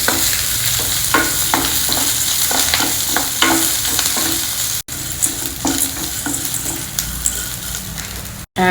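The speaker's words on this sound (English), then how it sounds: "I have 1 onion here which I have chopped. Fry the onion also in it." Chopped onion frying with dal in a pan, a continuous loud sizzle with repeated stirring scrapes across the whole stretch, and no talking.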